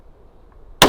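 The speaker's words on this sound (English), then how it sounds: "I heard that wood hit too" A bullet from a video game sniper exchange strikes wood with a single sharp, loud impact burst at the very end, after near silence.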